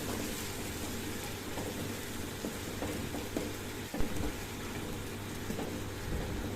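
Tomato paste frying with ground spices in a pan for a Bengali fish curry, a soft continuous sizzle and crackle with a few scraping stirs, fairly faint and without talk.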